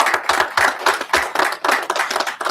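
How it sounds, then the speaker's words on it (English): Audience applause at a police department event welcoming a large recruit class, steady rhythmic clapping from a crowd, loud and close throughout. "Let's give them a round of applause."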